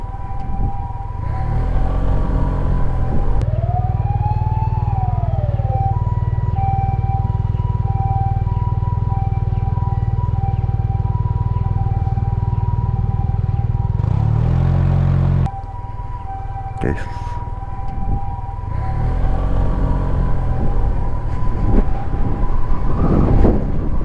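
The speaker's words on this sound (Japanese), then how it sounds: "今救急車はね安全に通行していただきました" A loud ambulance siren wails continuously as it passes, its tone sweeping and holding over heavy rumbling traffic noise in Japan.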